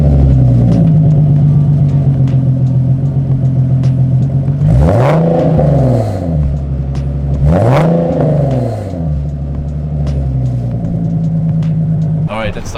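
A Stage 1 Nissan 370Z with catback exhaust and test pipes idles with a steady low rumble, then rises in two sharp revs before settling back, loud and close, with voices faintly present.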